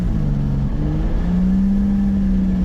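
A Toyota Supra with a 7M-GTE engine cruising uphill in fourth gear. The steady engine drone rises in pitch partway through under light throttle, heard close and continuous with no speech.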